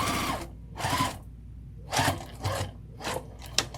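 A sewing machine stitches a crossbody bag in several short bursts of whirring separated by pauses, including a quick back stitch, close and clear with no voices.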